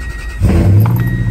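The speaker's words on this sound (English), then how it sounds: "Here it's got a nice exhaust. Nice V8 exhaust, man." A 2001 Toyota Tundra two-wheel-drive V8 fires up close by. A short, quiet lead-in gives way to the engine catching and settling into a deep, steady exhaust rumble.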